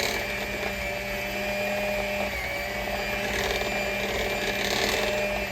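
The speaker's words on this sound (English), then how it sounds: "I'm gonna start mixing this for 5 minutes" A small hand mixer whirs steadily while beating icebox cheesecake filling, a continuous loud motor drone with a slight rise in intensity partway through and no talking.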